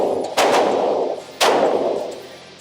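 Two loud, close gunshots from a heavy buffalo gun, each a sharp booming crack followed by a long decaying echo, about one second apart.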